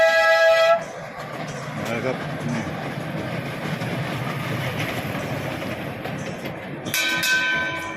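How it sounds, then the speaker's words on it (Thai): A miniature tourist train pulls in at Khao Kho, its steady rolling rumble and clatter filling the scene at moderate distance, with a bell-like chime at the start and end and someone talking over it. "รถไฟรถไฟมาแล้ว"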